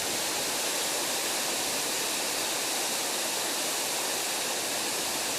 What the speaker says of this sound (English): That's the spillway from the back side of the dam.